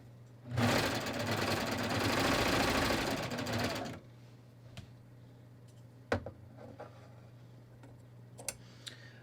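A sewing machine stitches fabric onto a scrap stitch pad while making a skort pocket: one steady, close whirring run of about three seconds, followed by quiet with a few faint clicks.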